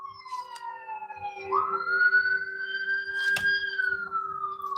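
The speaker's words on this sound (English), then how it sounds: "You hear the sirens in the background?" An emergency vehicle siren wails in the background, one long sweeping tone that dips, climbs and slowly falls again, heard fairly clearly over a faint steady hum.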